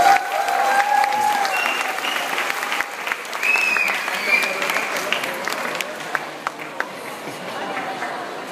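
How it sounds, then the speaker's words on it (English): Audience applause for Honda's ASIMO humanoid robot after its walking demonstration at RoboCup 2013 in Eindhoven: loud, sustained clapping from a large crowd fills the whole stretch, with a few voices mixed in. "Applause for the walk of ASIMO."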